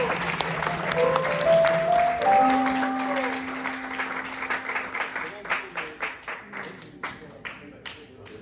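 An audience at a live soul concert at the Blue Note Café breaks into sustained applause that thins into separate claps near the end, with a singer's voice heard over it at the start.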